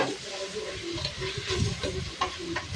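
Chicken neck and mushrooms sauté in a pan with a soft, continuous sizzle, broken by scraping stirring sounds close by.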